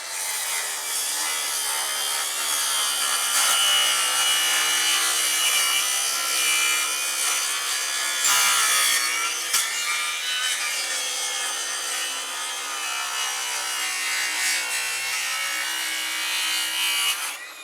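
A Harbor Freight power saw cuts continuously through wood embedded with nails and stainless screws, a steady loud buzzing rasp with brief rougher bites partway through and no talking.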